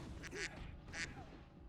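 A person imitates a duck with two quick, nasal quacks spaced about half a second apart, close to the microphone over a low background hum.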